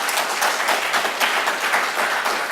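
A debate audience claps to vote for the negative team, producing a brief burst of lively, dense applause with uneven pulses of clapping throughout.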